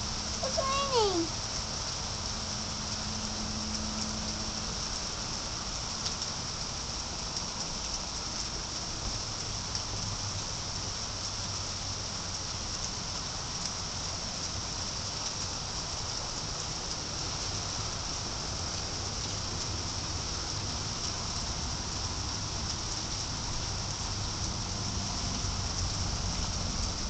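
Steady rain falls during an afternoon thunderstorm, a dense, even hiss of drops on surfaces running throughout with no pauses, and a faint voice is briefly heard near the start.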